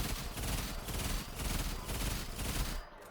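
Rapid bursts of gunfire from a weapon in the Roblox game Rivals, several shots in quick succession at steady loudness, ending abruptly near the close.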